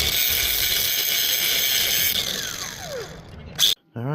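Power tool grinding off burrs on an exhaust after baffle removal, a loud whirring drone that winds down with a falling pitch, followed by a short sharp burst and a brief final whir.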